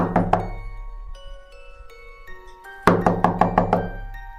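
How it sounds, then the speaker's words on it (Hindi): Knocking on a house door: two quick raps, a pause, then a loud run of about five sharp knocks, with a faint sustained musical tone underneath and no speech. "सुबह सुबह घर के दरवाजे के ऊपर खटखटाहट होती है"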